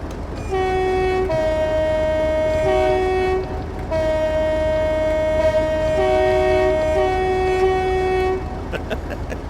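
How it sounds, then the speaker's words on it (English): A Class 58 diesel locomotive in a train simulator on the Great Western Main Line sounds its two-tone horn in several long blasts over the steady rumble of the train, close and loud, with no voices in between. "Do the horn, Matt."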